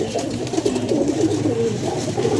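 A pair of household pigeons in Lahore coo softly and repeatedly, their low, throaty calls rolling on steadily and close by with no voices.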